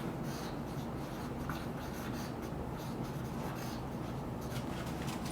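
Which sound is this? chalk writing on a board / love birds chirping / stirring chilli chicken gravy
chalk writing on a board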